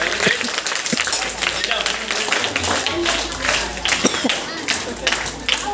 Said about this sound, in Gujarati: ચારે ચાર ટીમ માટે આપણે જોરદાર તાળીઓ પાડીએ મિત્રો